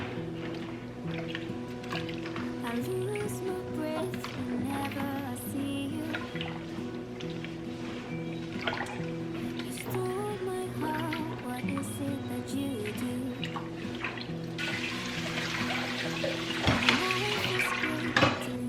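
Produce is swished and scooped in a bowl of sudsy washing water, giving a continuous soft sloshing with light clinks over quiet background music.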